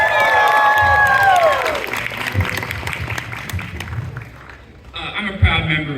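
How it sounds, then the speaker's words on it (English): At an anime convention Q&A panel, the audience breaks into loud applause and cheering after a high electronic whine fades. The clapping thins and dips briefly near the end before picking up again, with voices mixed in. "Everyone give Matt a round of applause"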